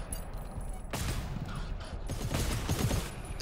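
Bursts of machine gun fire in the co-op shooter game GTFO, rapid repeated shots at mid distance starting about a second in and continuing in dense volleys, with mechanical clatter mixed under the gunfire.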